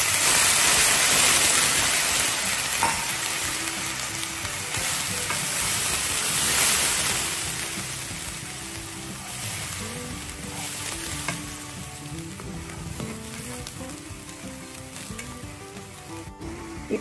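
Goat brain fries in a pan, a loud continuous hissing sizzle that rages at first and then eases slightly, with occasional stirring and no voices.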